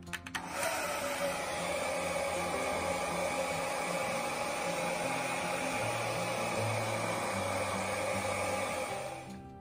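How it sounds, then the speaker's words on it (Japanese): A household hair dryer blows warm air over freshly printed fabric on a kids' long-sleeve T-shirt, switching on with a steady, close whirring hum that holds evenly for about nine seconds before cutting off. "次にプリントしていただいた箇所をお家にあるドライヤーで乾かしていきたいと思います。"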